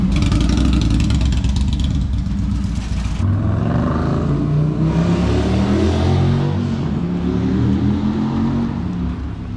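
An Indian motorcycle fitted with stage 2 cams revs and pulls away, its loud engine rising through gears and fading slightly as the bike rides off, with no talk.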